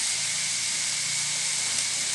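Vegetables tipped into hot cooking oil for a vegetarian curry give a loud, steady, broad sizzle and hiss that stays even throughout, with no voices.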